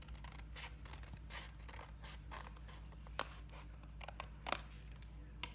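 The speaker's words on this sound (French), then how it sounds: "Donc, je coupe la petite bande." Scissors cutting a small strip of paper, a quiet series of short snips and crisp paper rustles with a few sharper clicks, close and faint.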